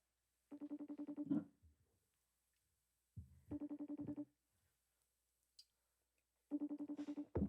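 A phone rings back on an outgoing call, heard as three clear buzzing ring bursts spaced a few seconds apart with faint clicks in the quiet gaps between them.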